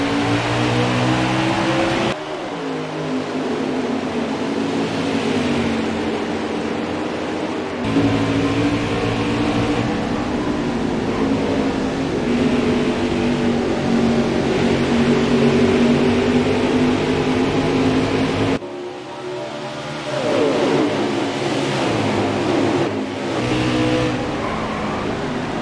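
NASCAR trucks racing at Phoenix in the game NASCAR Heat 4, a loud sustained engine roar with shifting pitch and abrupt cuts as gears change, close and continuous over the full stretch, no talk.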